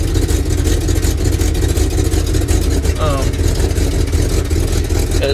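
A high-mileage 1974 Dodge W100 pickup truck engine runs steadily after a cold start, a loud continuous rumble that stays level throughout, with a person talking over it.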